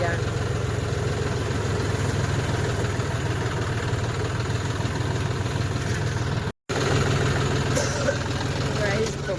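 A John Deere tractor engine idles steadily with a continuous low rumble, loud and close, interrupted by a brief dropout before resuming; faint voices murmur in the background.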